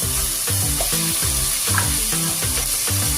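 Pieces of mutton hit a hot pan for a curry and sizzle loudly and continuously, a close, steady crackle of frying heard over rhythmic background music.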